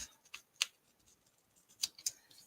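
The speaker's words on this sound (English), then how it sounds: "I'm just going to cut off again using the scissors from the back." Scissors snip through paper while trimming a handmade bookmark: a few sharp, separate cuts, close and quiet, with pauses between them and no talk.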